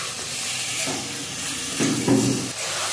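Chilli chicken coated in soy and tomato sauce is stirred and fried in a pan, giving a continuous moderate sizzle with a few louder scraping stirs near the end; no voices.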